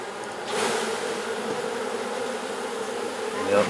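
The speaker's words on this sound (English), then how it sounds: "these are all nurse bees here" A swarm of honey bees, nurse bees clustered at the hive, drones in a steady close buzz that swells briefly near the start and again at the end.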